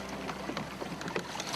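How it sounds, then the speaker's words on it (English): Oars creak and dip into water as a wooden rowing boat moves toward Varanasi, in an irregular rhythm, with soft splashes and wooden knocks close by over a steady outdoor hiss. "I'm rowing a boat"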